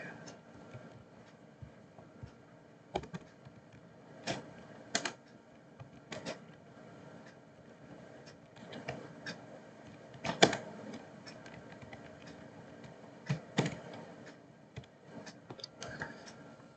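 Someone enters data on a computer keyboard with soft, scattered clicks of irregular keystrokes, heard up close and quiet against a hushed room, with occasional louder taps.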